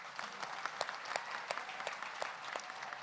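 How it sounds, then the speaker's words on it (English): Faint, sparse clapping from a graduation ceremony audience, individual claps heard in a loose irregular pattern at a distance, quiet and thin rather than a full ovation. "Let's give them a round of applause"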